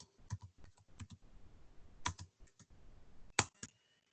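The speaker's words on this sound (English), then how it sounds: "So I'm going to type the word false." Keys click on a computer keyboard in short bursts of quick taps separated by pauses, close and fairly quiet, with no speech.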